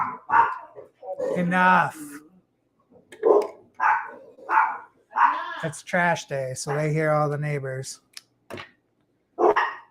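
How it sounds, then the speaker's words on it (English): A person talks in short phrases, and a dog barks and whines between and under the words, close by. "I'm done with you barking."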